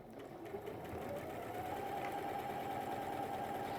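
A sewing machine runs a long stitch in a steady, continuous mechanical whir that holds at an even pace, close and alone with no talking.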